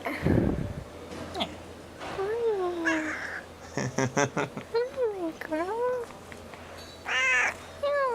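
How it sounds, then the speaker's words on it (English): A cat meows repeatedly in short rising and falling calls, some drawn out, interleaved with nearby human speech, within the Disco Elysium video game. "I caught a little fat cat."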